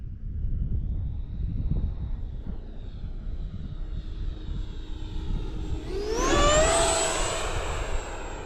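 An FMS BAe Hawk RC model jet flies past at full throttle; its steady engine roar under wind noise swells into a loud, rising whine as it passes close, then fades slightly.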